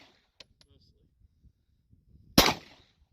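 A single loud, sharp gunshot from a Glock 26 pistol cracks near the end, preceded by faint clicks and handling sounds in otherwise quiet surroundings.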